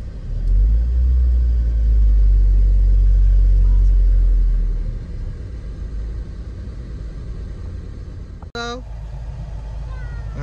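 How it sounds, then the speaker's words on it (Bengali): Car engine rumbling loudly near the house as the car is brought out, the heavy low drone fading after a few seconds, then a brief sharp sound and quieter background. "তো গাড়িটা এখন ঘর থেকে বার করতে হবে"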